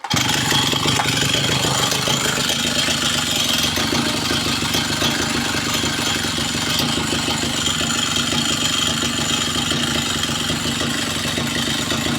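A small carburetor engine idles steadily at close range, a continuous low rumble with a faint mechanical clatter holding an even level throughout, with no talking over it.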